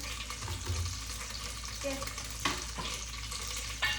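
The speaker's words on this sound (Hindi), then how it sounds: "कड़ी पत्ता क्योंकि मैंने धोया था ना, तो वो थोड़ा सा वैसा हो रखा है, वाटर इसमें चिट कर रहा है" Washed curry leaves sizzle and fry in hot oil, a steady close hiss with a few sharp spatter bursts, and a faint voice in the background.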